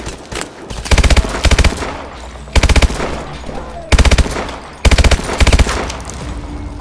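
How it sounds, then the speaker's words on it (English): Repeated bursts of automatic gunfire from a Call of Duty Advanced Warfare firefight, loud and close, coming in several rapid volleys separated by brief pauses, with faint speech underneath. "Somebody's been shooting at you, though."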